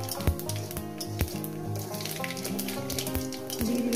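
Bay leaves and whole cumin dropped into hot oil left from frying vegetables, crackling and spitting in a close, busy sizzle with a few sharp pops, no voices.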